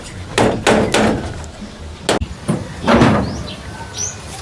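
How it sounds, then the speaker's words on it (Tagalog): Hammer blows on a wooden door as nails are pried out, a few sharp knocks and scraping strikes spaced irregularly, close and fairly loud, with a crisp crack near the middle. "Tinatanggal na yung mga pako."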